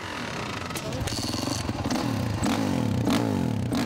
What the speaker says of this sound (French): le moteur 4 temps au grave prononcé.